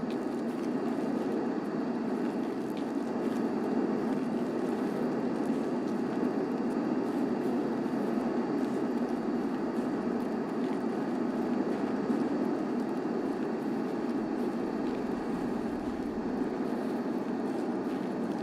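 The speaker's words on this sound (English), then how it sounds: "It's going to get noisy for a minute, chat, so I'm just going to wait for the plane to pass." A propeller plane passes overhead in Escape From Tarkov, a steady, loud low rumble and drone that holds evenly without fading for the whole stretch, with no talking.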